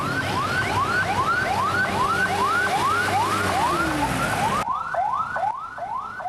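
Ambulance convoy sirens wailing in repeated rising sweeps, loud and continuous, with several overlapping units heard close by on a road in Sleman, Yogyakarta.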